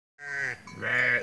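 Santa Inês sheep on a rural property bleat close by in one drawn-out, wavering call that dips briefly in the middle and then swells again, loud and clear with no talking.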